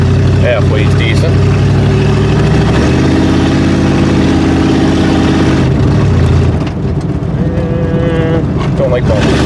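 A Ford Granada's engine runs steadily, a loud close mid-pitched drone that changes tone as the car shifts gears and drives, with a voice talking over it at times.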